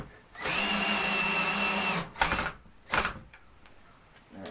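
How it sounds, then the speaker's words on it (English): A power drill bores into material while building a small tractor trailer, a loud two-second whining run followed by two short bursts, then quieter clicks and handling sounds. "Less torque and more drilling."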